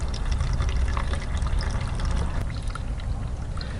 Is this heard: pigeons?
no